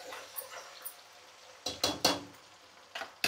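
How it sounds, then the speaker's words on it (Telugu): Ginger-garlic paste fries in oil in a home kitchen. Soft sizzling sits under a few sharp clinks and scrapes of a utensil against the pan, spread irregularly over a quiet background. "ఇప్పుడు నేను అలా తీసుకొని కొంచెం నూనెలో వేయిస్తున్నాను అన్నమాట"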